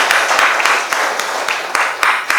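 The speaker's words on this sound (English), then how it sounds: "Can you join me in applauding the Doc for his eloquent presentation?" Conference audience in Kampala, Uganda applauding at the close of a presentation session: dense, steady clapping from many hands throughout, with a few sharper claps standing out.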